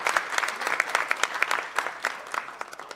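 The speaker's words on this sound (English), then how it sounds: "Please, a round of applause for him." Audience applauding at the NSMQ 2025 national championship launch for the Primetime Ghana chairman, brisk sharp claps in a lively, moderately loud patter throughout.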